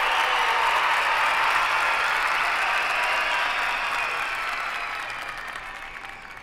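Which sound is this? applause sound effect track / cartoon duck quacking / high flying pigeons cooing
applause sound effect track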